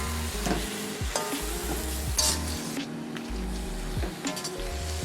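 Soy sauce sizzles loudly in a hot wok during a stir-fry, with bursts of hissing and the repeated scrape and clink of a spatula stirring the food close by.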